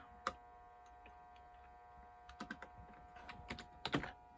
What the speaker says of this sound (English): trying to type with one hand